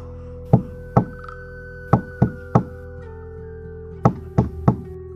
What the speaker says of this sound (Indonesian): tiba-tiba saja dia mendengar suara ketukan pintu jendela